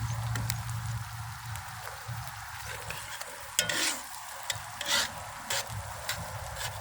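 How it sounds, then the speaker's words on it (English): New York prime strip steaks sear in a hot pan, a steady low sizzle running throughout with a few sharp crackles and spatters as the meat hits the surface. "Let's get these steaks seared up in here."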